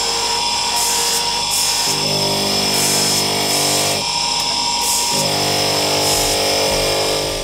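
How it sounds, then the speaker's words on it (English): Rings are polished on a jeweller's powered polishing tool in Bali, giving a loud, close, continuous grinding rub whose pitch shifts slightly as the piece is pressed and moved. "we just got done polishing my rings"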